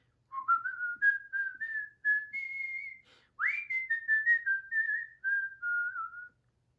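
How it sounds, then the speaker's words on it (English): A person whistles a lively, wandering tune in two long phrases separated by a short pause, clear and close with no other sounds. "He walks home whistling."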